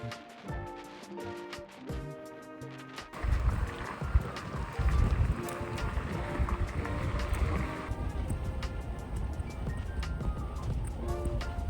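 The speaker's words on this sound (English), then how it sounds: "The wind here is so strong though, can you hear it from the video?" Strong, freezing winter wind blows in Iceland, a loud continuous rumble buffeting the microphone close up, constant over the whole stretch after a brief quieter opening.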